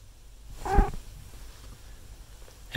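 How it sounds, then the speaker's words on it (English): A house cat, woken from sleep, gives a single short chirp close by, a brief squeaky trill standing out against a quiet indoor background. "We're going to get the kitty chirp, the sound she makes when you wake her up."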